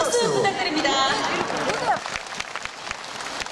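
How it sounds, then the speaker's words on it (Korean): Applause and crowd noise at the Gangjin Celadon Festival (강진 청자 축제) as a trot singer takes the stage. Dense clapping swells at first with whistles and shouts above it, then thins to a softer patter. "큰 박수 부탁드립니다"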